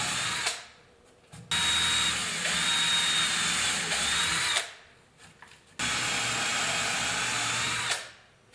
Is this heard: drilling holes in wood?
yes